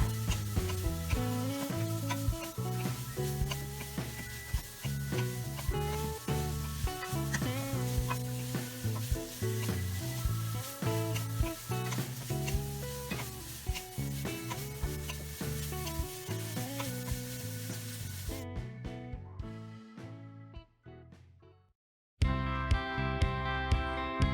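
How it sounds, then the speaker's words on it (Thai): Minced pork with sliced chili, galangal, lemongrass and kaffir lime leaves is stir-fried for Thai khua kling in a pan. A continuous sizzle runs under constant rhythmic scraping and stirring, which ends in a brief silence and then resumes. "จากนั้นผัดต่อไปประมาณ 1 นาทีแล้วปิดไฟเตาได้เลยค่ะ"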